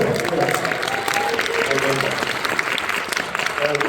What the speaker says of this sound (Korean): 박수로 환호해 주십시오